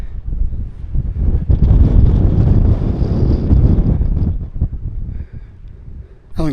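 Strong wind at an exposed hilltop wild-camping spot buffets the microphone in a loud, continuous roar that builds and eases, dropping briefly near the end.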